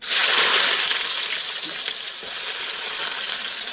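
Chopped onions fry in a hot pan with cloves and cardamom for a home-style sprouts chicken curry, giving a steady, close hiss of sizzling oil that stays even from start to finish with no talk.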